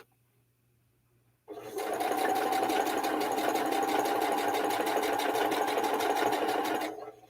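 A sewing machine stitches red, white and blue swap quilt blocks to a backing, starting after a quiet moment and running at a fast, even whirring pace for several seconds before stopping.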